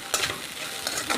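Chicken stir-fried for a spicy Telugu fry, scraped and tossed in a hot pan with a steady sizzle and a few sharp scraping strokes, close and fairly quiet, no voices.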